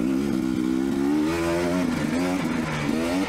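Dirt bike ridden on Cabin Trail at Johns Peak OHV, its engine loud and close with steady revving and shifting pitch as it runs over braking bumps.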